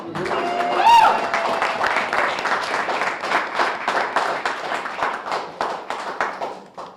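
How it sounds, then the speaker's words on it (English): Audience applause at an outdoor climate press conference in Watertown, a dense run of many clapping hands that starts strong, swells and slowly tapers over several seconds, with a few voices mixed in. "I think that deserves another round of applause"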